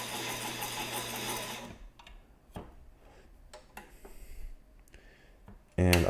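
A secondhand sewing machine runs steadily for under two seconds and then stops, leaving scattered ticks and clicks of handling before it briefly starts up again with a loud burst at the end.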